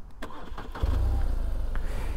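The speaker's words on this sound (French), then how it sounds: "là il va falloir mettre le moteur en route" A 2007 BMW R1200R motorcycle engine cranks briefly with a few clicks, then catches and settles into a steady, loud low idle rumble close by.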